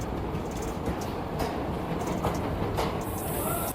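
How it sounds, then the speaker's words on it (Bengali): The Jogbani Express rumbles steadily out of Malda Town station close by, heavy low roar with faint rhythmic clatter of wheels and occasional squeals. "মালদা টাউনের তিন নম্বর প্ল্যাটফর্ম থেকে যোগবাণী এক্সপ্রেস ছাড়লো"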